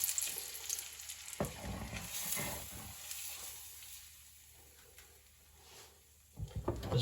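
Pancake batter sizzles in a hot pan, a soft steady frying hiss with a few scraping ladle and stirring noises, close and fairly quiet with no talking.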